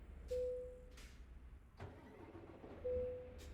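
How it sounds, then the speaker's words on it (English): A heavy truck engine in American Truck Simulator cranks and restarts, with short starter whines and a low idle rumble between them, faint and alone. "Why is it restarting the truck?"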